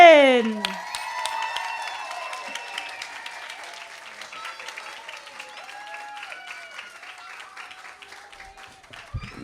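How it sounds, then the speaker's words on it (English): Audience applause for Principal Watterson at a kindergarten stepping-up ceremony, a steady wash of clapping that starts strong and slowly thins over several seconds while a few voices and a whoop carry faintly above it. "So let's stand up and give a round of applause for Principal Watterson."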